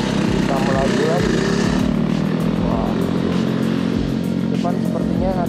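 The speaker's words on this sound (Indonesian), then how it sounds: "Sepertinya ada motor dua tak tuh" A two-stroke motorcycle engine buzzes loudly and close by, revving steadily over a constant roar of traffic, with a voice talking over it.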